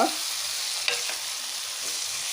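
Chopped tomatoes sizzle loudly in a hot pan on high flame, a continuous frying hiss with a single sharp scrape of stirring partway through.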